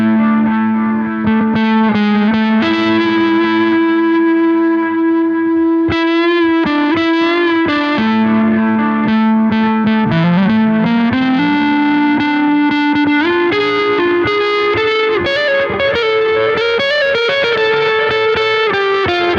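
Electric guitar with heavy delay and distortion playing a part of a song, sustained melodic notes with echoing repeats, loud and continuous with no talking.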